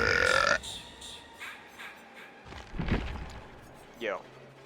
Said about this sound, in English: My burps, so much more moist.